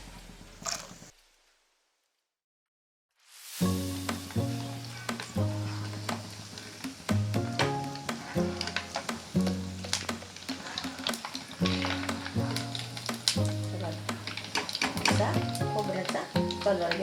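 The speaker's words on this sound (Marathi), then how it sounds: "आता खोबरं तळून घेऊ." Coconut pieces fry in oil for Diwali chivda, a soft crackling sizzle running steadily after a brief silent gap at the start, with a faint voice and a repeating low tonal pattern underneath.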